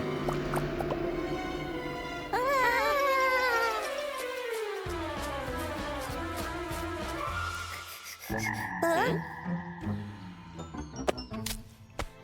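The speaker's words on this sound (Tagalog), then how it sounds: "Isang palaka!" A cartoonish frog croaks in a bouncy, wobbling run of calls over lively music, with squishy effects and shifting tones throughout.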